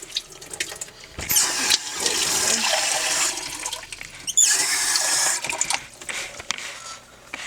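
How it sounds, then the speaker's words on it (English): A cup of water poured from a tap or container onto strawberries in a pot for jam, a rushing splash that swells, pauses briefly, then resumes, loud and close with no talking. "we'll follow it up with the 1 cup of water"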